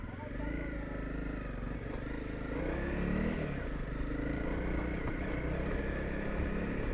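A motorcycle ridden along a rough, stony road, its engine droning steadily close by with wind buffeting and clattering bumps, while a rider's voice talks over it.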